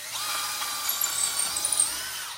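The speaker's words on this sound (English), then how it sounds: "You want to drill the hole" Power drill boring a hole in a steady, continuous high-pitched whine, close and loud, with slight fluctuations in pitch as the bit works through the material.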